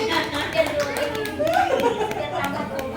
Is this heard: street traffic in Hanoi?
no